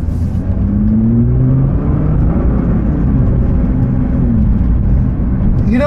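A 2024 Nissan GT-R sports car cruises along EDSA with a steady, loud low engine and road rumble and a gently rising and falling engine note, heard from inside without talk.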